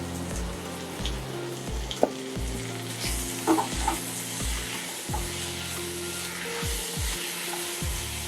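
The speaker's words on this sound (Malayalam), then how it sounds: "അപ്പോൾ നമ്മുടെ ചിക്കൻ ഒരു 5 മിനിറ്റ് നമ്മൾ സോട്ടേ ചെയ്തിട്ടുണ്ട്." Thinly sliced chicken sautéing in a hot pan for an Indo-Chinese chop suey, a steady sizzle broken by repeated scraping stirs of the spatula, close and continuous with no talking.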